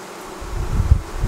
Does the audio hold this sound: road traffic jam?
no